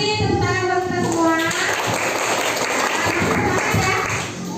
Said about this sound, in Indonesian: Masih tepuk tangan buat kita semua.